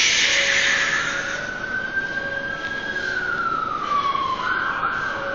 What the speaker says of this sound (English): There's another siren reminding us how important martial arts are for us today.